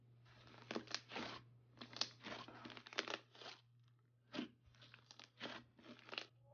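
Crunchy Electric Kiwi slime by Dope Slimes squished up close, giving repeated bursts of crackling, popping crunches in an irregular rhythm over a faint steady hum.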